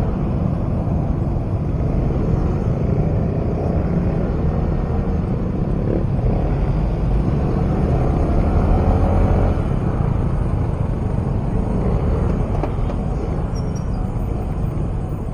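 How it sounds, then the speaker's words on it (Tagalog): Road traffic heard from inside a moving car, a steady low rumbling drone of engine and road noise that stays even and continuous without talk. "It's traffic"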